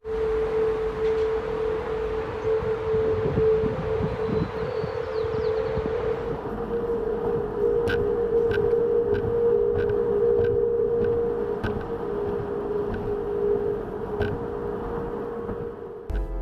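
The Golden Gate Bridge in strong wind gives off a sustained, loud tonal hum with a steady pitch, heard throughout over a bed of rushing wind noise.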